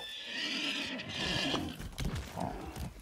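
A horse neighs loudly and close in the video game Far Cry 6, a shrill whinny followed by snorts and hoof sounds over a short stretch.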